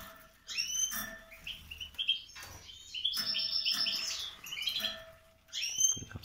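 Caged goldfinches chirp and twitter in bright, rapid phrases from close by, with bursts of song separated by brief pauses and no one speaking.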